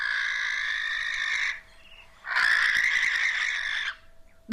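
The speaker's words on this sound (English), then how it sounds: "that's the sound a Western barn owl made" Western barn owl call played back through a phone speaker, two long harsh rasping screeches close and loud, separated by a short gap, with no talk.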